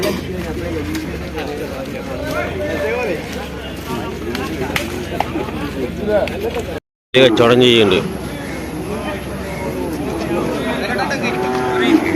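Young buffalo bellow and moo again and again over the noisy chatter of a crowded livestock market at Kollannur in Kerala, with people talking close by.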